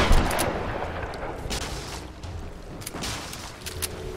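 Shotgun fire in the video game Tomb Raider, loud booming blasts: a strong opening shot, then several scattered reports over a rumbling background.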